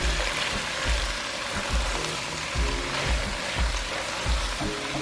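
Nopales sizzle and fry steadily in a hot pan, a dense, even crackle with a faint low rhythmic thumping beneath it, close and continuous.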